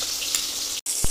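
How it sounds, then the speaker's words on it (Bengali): Fish frying in oil in a wok, a continuous close, bright sizzle with a brief dropout and a short low knock near the end. "এই মাছগুলো ভাজা হয়ে গেছে"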